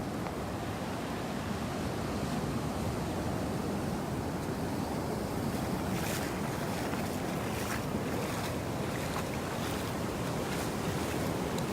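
Steady broadband wash of ocean water and waves around someone wading in the sea, with wind buffeting the microphone and a few brief splashes; no talking.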